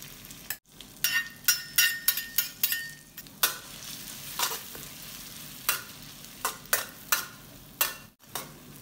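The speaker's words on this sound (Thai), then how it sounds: "นำพริกกับกระเทียมที่เราตำไว้นะครับมาผัดให้แตกกลิ่นหอมเลยครับ" Pounded chili and garlic stir-fried in a hot pan, with repeated scraping strokes of a spatula over a steady sizzle, close by and with no voices.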